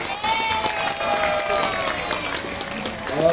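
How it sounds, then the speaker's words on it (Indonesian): Audience applause and crowd noise at a store meet-up event, steady clapping filling the whole short stretch with a murmur of voices underneath. "Sekali lagi kita kasih tepuk tangan dulu untuk kakak-kakak kita yang di depan"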